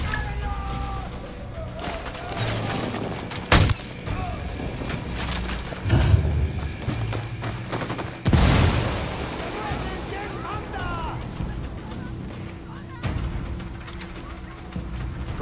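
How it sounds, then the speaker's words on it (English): Gunfire in the tactical shooter Ghost Recon Wildlands: a few sharp, loud shots or blasts break out at scattered moments over a rumbling, wind-like outdoor ambience, with voices talking throughout. "I'm opening fire on these shitheads."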